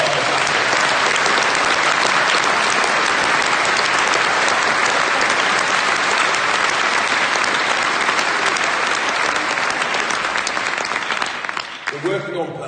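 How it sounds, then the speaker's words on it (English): Sustained, loud applause from a political rally audience at a Leave Means Leave event in 2019, dense clapping filling the room for about eleven seconds before trailing off near the end. "If you can join me in a hand of applause."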